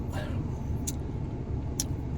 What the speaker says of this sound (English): I'm sitting here in the parking lot of the Costco.